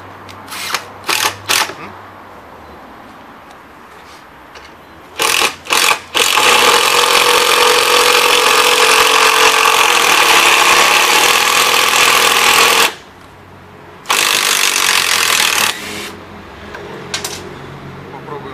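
Makita impact driver driving screws, giving loud sustained rattling bursts of hammering, one long run of about seven seconds plus several short bursts, with brief pauses between.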